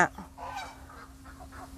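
Ducks on a farm calling in a short burst of honking, nasal quacks, several overlapping calls fairly close and moderately loud over a faint steady hum, with no talking.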